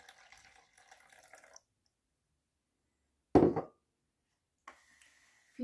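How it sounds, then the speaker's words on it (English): Water poured into a jar for feeding a refrigerated sourdough starter, heard as one short, loud splash in a quiet room, followed later by a faint trickle and clink. "I add 270 grams of water. Water goes in first."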